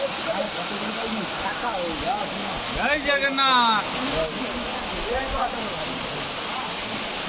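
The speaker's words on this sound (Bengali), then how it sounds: "দেখছেন আপনারা ঝর্ণা" A waterfall at Sitakunda near Baripada roars as a steady broadband rush, with a chanting voice and other talk over it.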